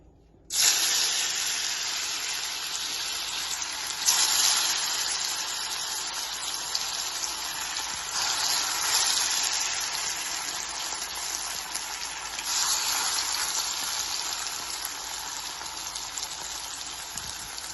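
Pandugappa fish pieces frying in hot oil give a steady loud sizzle and hiss that starts suddenly and continues with small surges, with no talk over it.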